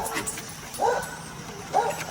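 A dog gives two short, high yipping barks about a second apart, close by, with faint background noise between them.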